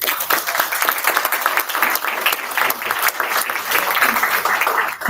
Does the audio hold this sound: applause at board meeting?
yes